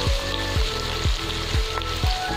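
Onions frying in oil in a pan for chola bhuna, a close, steady sizzle broken by regular scraping strokes of a spatula roughly every half second, with no talking.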